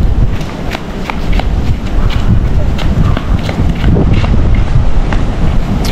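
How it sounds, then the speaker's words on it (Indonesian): Strong wind buffeting the microphone outdoors on a beach near a resort hotel in Desaru, Johor, a loud continuous low rumble filling the whole stretch with no clear gaps. "Angin kuat hari ni tapi tak hujan."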